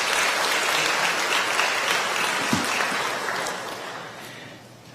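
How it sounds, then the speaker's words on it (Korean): A church congregation at a Sunday service applauds to welcome a visiting pastor, a full, even round of clapping that gradually thins and fades toward the end. "여러분 환영의 박수 부탁드립니다."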